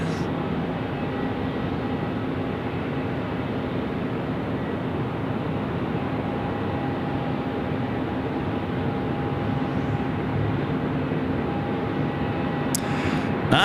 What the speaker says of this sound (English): Runway 16 right, clear for takeoff, Qantas